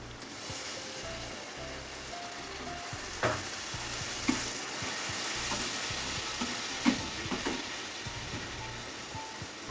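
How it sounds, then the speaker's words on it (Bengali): Onion, fish masala, turmeric, chili powder and salt cook down in oil for a mango fish curry, producing a soft, steady sizzle with occasional louder spoon knocks against the pan and a low hum underneath. "পেঁয়াজ মশলাগুলো একটু ভালোভাবে কষিয়ে নিচ্ছি"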